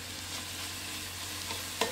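Onions sautéing in a pan for mussels in white wine give a steady, low sizzle and frying hiss, with a brief louder clink of stirring near the end and no talk.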